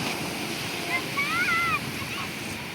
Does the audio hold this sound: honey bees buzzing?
no